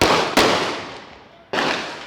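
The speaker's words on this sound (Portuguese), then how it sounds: "Os disparos teriam sido feitos por traficantes no começo da tarde" Two sharp gunshots ring out in a street in the Santa Rita neighbourhood of Vila Velha, recorded from a nearby home. The loud cracks come about a second apart, each trailing off in a long echo.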